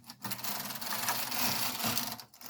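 Continuous rattling, whirring clatter of a knitting machine carriage sweeping across the needle bed while knitting a bulky baby hat in stockinette, close and steady with brief pauses at each end of the pass.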